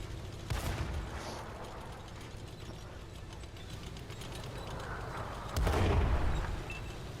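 World of Tanks artillery fire near a Stug 33 B assault gun: two heavy booming impacts, one early and a louder one near the end, over a low mechanical battle rumble, without speech.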